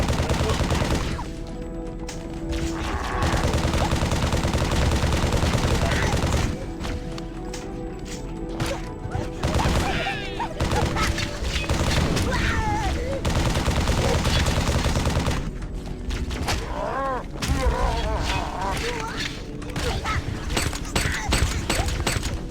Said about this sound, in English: Is that a grenade launcher?